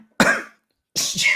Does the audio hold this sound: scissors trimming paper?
no